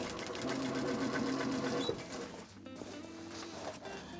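A sewing machine stitches a small fabric bag, its motor whirring in a steady, fast rhythm close by, pausing briefly before running again.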